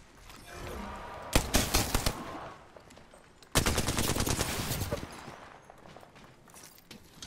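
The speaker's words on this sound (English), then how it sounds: "Could go waiting for him to finish shooting his gun." Automatic gunfire from Apex Legends rips out in two loud sustained bursts, one after another with a brief pause between them, then trails off into quieter game ambience.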